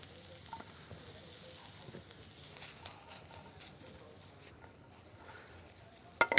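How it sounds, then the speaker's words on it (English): Mushrooms sautéing in clarified butter in a hot pan, a steady soft sizzle with light crackle and occasional scrapes and pattering, continuous throughout with a brief louder clatter at the very end. "when you saute mushrooms, the very first thing that happens is the clarified butter now soaks into the mushrooms"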